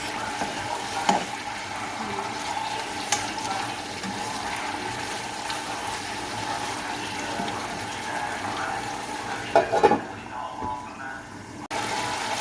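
Onions sautéing in rendered pork fat for adobo, a steady sizzle with stirring scrapes and a few utensil clinks, close by and fairly loud.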